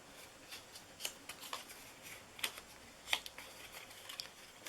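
Paper treat box being folded along its freshly scored creases, a series of soft crinkles and sharp papery snaps spaced irregularly, close and quiet with no talking.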